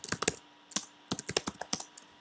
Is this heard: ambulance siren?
no